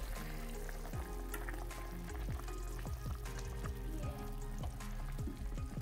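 Chicken wings simmer and sizzle in a covered pot, a steady close bubbling and frying hiss with a faint repeating tick over a low hum, and no voices.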